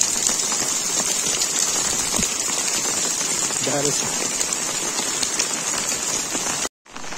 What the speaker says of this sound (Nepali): पानी त परै छ त।